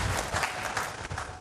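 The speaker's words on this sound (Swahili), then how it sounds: "Tumpigie makofi waziri wetu mkuu, kaka yetu Daktari Mwigulu Lameck Nchemba." A crowd applauds the prime minister of Tanzania at a public event with steady, dense clapping at full volume throughout the short span.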